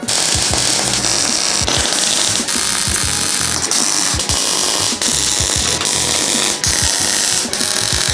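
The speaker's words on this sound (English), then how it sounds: "the only thing left to do now on these wings is to weld up the little holes from the trim" Small trim holes on the wings of a Mk1 Caddy are welded up, a loud continuous crackling buzz with sharp periodic snaps and pops close by, no talking.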